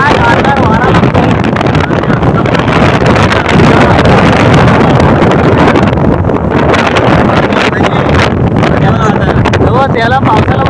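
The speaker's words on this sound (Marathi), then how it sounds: "काय गारदार वारा लागतोय." Cool wind buffets the microphone in a steady, loud, roaring rumble throughout, on an outdoor road between villages, with a faint passing vehicle underneath.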